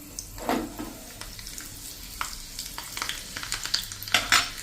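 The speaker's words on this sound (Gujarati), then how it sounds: "3 થી 4 કળી મેં લસણના પીસ કર્યા છે એ નાખી દેશું. અને એને આપણે ક્રકલ થવા દેશું." Chopped garlic, three to four cloves, crackles in hot oil for a spinach and gram-flour dumpling curry, with close sizzling, clattering stirring and a few louder spatters near the end, no talk.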